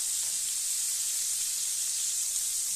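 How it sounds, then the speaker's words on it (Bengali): Small shrimp (icha mach) sizzle lightly in hot oil in a pan, a steady, close, even hiss of frying that carries on unbroken with no talking over it. "তো ইচা মাছটা আমি একটু হালকা ভাজা নিব, ভাজা করবো"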